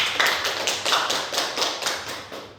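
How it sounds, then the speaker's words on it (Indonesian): Short burst of classroom applause during a micro-teaching lesson, a handful of rhythmic claps in quick pulses, fairly close and fading slightly toward the end. "Tepuk tangan dulu."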